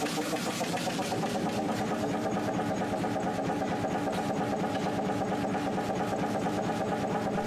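An early 1920s–1930s Fairbanks-Morse twin-cylinder two-stroke, water-cooled stationary diesel engine runs steadily, a continuous dense mechanical chugging at an even rhythm with no pauses and no voices.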